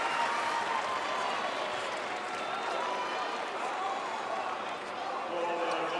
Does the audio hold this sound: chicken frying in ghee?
no